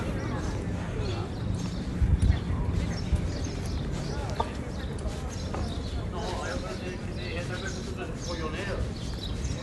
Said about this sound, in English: People are going for horse rides.